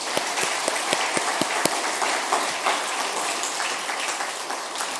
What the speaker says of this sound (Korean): 박수 한번 쳐주십시다